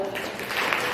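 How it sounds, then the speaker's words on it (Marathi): Audience applause at an invited poets' gathering held for International Women's Day, a dense, steady burst of many hands clapping together that fills the short moment without any voices. "एकदा टाळ्या वाजवा"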